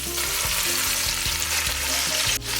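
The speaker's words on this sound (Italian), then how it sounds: "cominciamo a mettere adesso dentro la coda e la facciamo rosolare per bene" Pieces of oxtail browning with guanciale in a hot pan for coda alla vaccinara, a loud steady sizzle with rhythmic stirring or scraping thuds running throughout, no voices.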